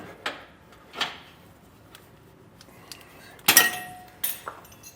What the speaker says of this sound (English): take a flathead screwdriver and we need to pry these out